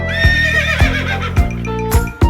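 A horse whinnies in a long, wavering neigh, with a few rhythmic thumps underneath like hoofbeats or a musical beat.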